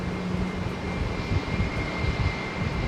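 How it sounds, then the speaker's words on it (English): A jet airliner engine spools up at Heathrow Airport while smoke from nearby fires hangs over the field, giving a steady, distant roar with a faint high whine over it. "Engine's still firing up, still starting up."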